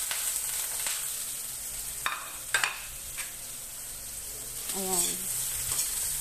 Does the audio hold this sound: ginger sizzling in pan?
yes